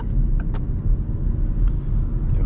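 Inside a car moving at about 30 km/h in third gear, a low steady engine and road rumble dominates, with a few faint clicks and rattles and no talking.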